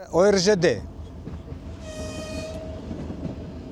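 A train on the Russia-Mongolia railway sounds a loud horn blast at the start, followed by a steady rumble and a fainter whistle-like tone.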